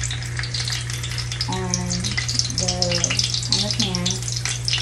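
Food frying in avocado oil in a pan, a constant bright crackling sizzle over a low hum, with a few short tonal squeaks or voice-like sounds breaking in during the second half.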